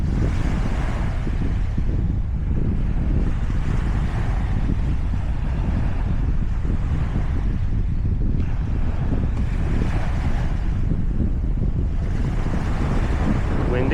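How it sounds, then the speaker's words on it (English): Strong wind buffets the microphone on the bank of the River Mersey during sea fishing, a constant loud rumbling roar with gusty swells and no voices. "Windy, innit, mate?"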